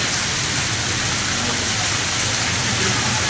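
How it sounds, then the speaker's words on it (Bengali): Heavy rain falls over a market street in a constant broadband wash of drops, loud and unbroken throughout, with no clear speech. "কিন্তু বৃষ্টির শব্দ হচ্ছে"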